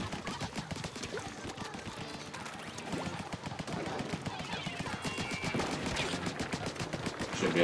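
Rapid gunfire from Splatoon during an online Tower Control match, a dense stream of sharp shots running continuously under loud game music and effects.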